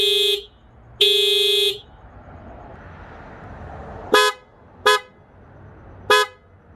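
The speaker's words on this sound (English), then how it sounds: "As you can hear, it's a lot deeper for the Hella horns" Loud, deep car horn honks from a Hella trumpet horn kit: two longer blasts, then three short toots, with steady engine and traffic rumble underneath.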